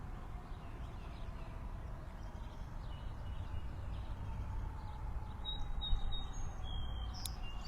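Birds sing outdoors over an open field during an outdoor yoga session, with faint distant chirps and tweets over a steady background hum that grow a little clearer toward the end, with no talk.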